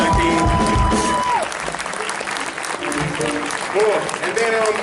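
Audience applause at a charity music show, a steady wash of clapping from a crowd that carries on under a speaker's voice and tonal sounds throughout.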